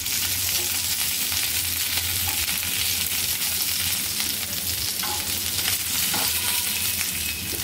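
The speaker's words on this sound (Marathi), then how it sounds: "आता आपण दुसऱ्या साईडने उलटूया आपण ती भेंडी।" Stuffed okra fries in a pan with a loud, continuous sizzle, and scraping stirs and turns cut through it now and then.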